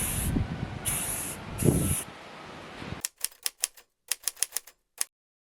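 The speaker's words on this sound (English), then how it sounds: "spray painting them so that way you could tell immediately which ones were which" Aerosol spray paint hissing in short bursts, three loud spritzes in a backyard, followed by a quick series of sharp rattling clicks from the can being shaken.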